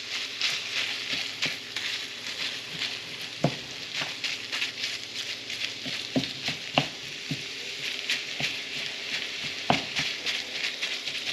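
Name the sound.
ground meat browning in a pan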